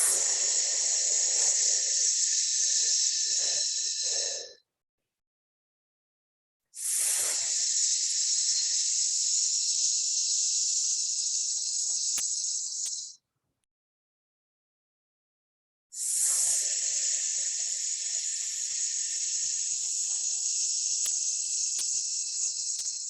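Three long, steady exhaled hisses of breath during a breathing and rhythm exercise. Each hiss is loud, close and held for several seconds, and silent pauses separate them.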